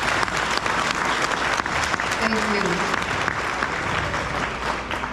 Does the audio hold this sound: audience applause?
yes